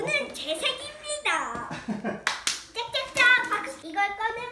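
Hands clap a few times amid excited children's voices and giggles, close by, with talking continuing throughout.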